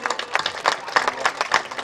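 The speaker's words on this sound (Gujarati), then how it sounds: "આપણે જોરદાર તાળીઓ પાડીશું।" Loud applause from an audience at a Saiyad community honour ceremony in Mangrol, with a steady rush of many hands clapping in uneven bursts and no clear break, filling the whole moment.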